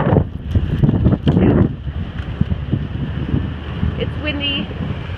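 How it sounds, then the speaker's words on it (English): Wind buffets the microphone on a chilly Appalachian Trail hike, with rough low-frequency gusts that peak early and then ease into a steady rumble, and people talk through parts of it. "It's windy"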